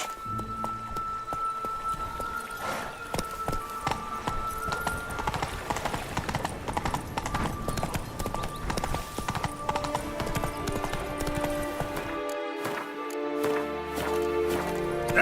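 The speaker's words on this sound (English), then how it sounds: "Whoa there, Roach" A horse in The Witcher 3 gallops with rapid, steady clip-clop hoofbeats on the ground, close and continuous for the whole stretch, and slows toward the end.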